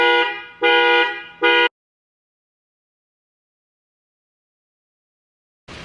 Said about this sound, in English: How easy is it to set the alarm off on your Toyota Tacoma?